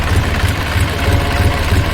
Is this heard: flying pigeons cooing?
no